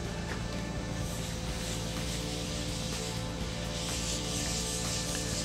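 Cellulose sanding sealer being rubbed onto a turned sycamore wood platter, a steady continuous close-up rubbing hiss over a constant low mechanical hum, with no talking.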